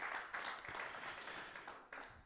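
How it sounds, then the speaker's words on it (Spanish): A church congregation claps for a sister, a soft, steady patter of many hands at moderate distance, fairly faint and continuous. "un aplauso para la hermana por su valor"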